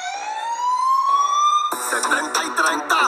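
A police patrol car siren winds up in a rising wail, then cuts to a loud, rapid, choppy yelp for the last second or so; nearby and prominent, with no talking.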